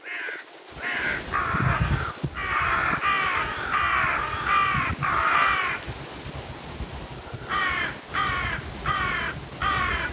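Crows cawing loudly nearby, harsh repeated caws in bursts of several calls, a short pause, then another run of caws, over a steady outdoor background.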